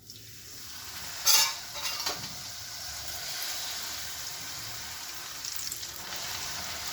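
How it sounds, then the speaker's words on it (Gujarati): Chorafali dough frying in hot oil over a low flame, a steady fine sizzle with a sharp clatter of a utensil near the start, and no one speaking. "આ તેલ ગરમ થઈ ગયું છે અને હર હંમેશ ધીમો તાપ રાખી અને નાખી અને પછી મીડિયમ તાપ કરીશું"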